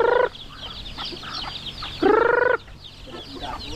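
Chickens and chicks clucking nearby, with two loud harmonic squawks from a hen standing out over a busy background of softer clucks and peeps.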